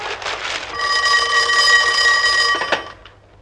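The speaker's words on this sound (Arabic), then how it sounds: "تليفون ليك" An old telephone bell rings in a continuous electric trill for about two seconds after a short lead-in rattle, loud and close, then cuts off with a brief clatter.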